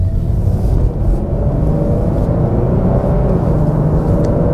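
Steady low engine drone from a 2021 Lexus IS 300 AWD on the road, a continuous muffled rumble with mild tire and road noise, holding an even level throughout with no speech.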